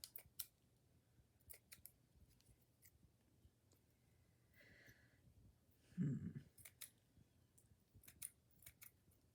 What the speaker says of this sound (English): Yep, I definitely need some sharper scissors.